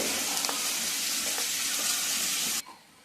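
Chopped vegetables stirred in a pot for soup, a steady loud sizzle with faint scraping strokes that stops abruptly near the end.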